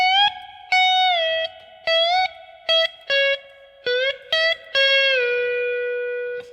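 Slide guitar lead lick, a run of sliding, gliding notes separated by short muted gaps and ending on a long sustained note, played clean and close with no talking.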